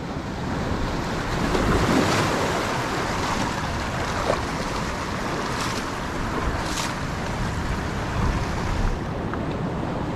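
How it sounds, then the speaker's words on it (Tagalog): Sea waves wash against the rocky shore of an island in Sual, Pangasinan, a steady roaring surf with gusts of wind buffeting the microphone and a few louder swells breaking nearby. "Yan yung alon, no?"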